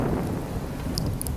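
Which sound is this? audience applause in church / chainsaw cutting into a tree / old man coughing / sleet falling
sleet falling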